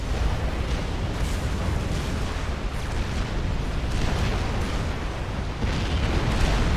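Tactical missiles exploding in the video game Forged Alliance, a dense, loud and continuous rumbling barrage of overlapping blasts, heavy in the low end, with no speech.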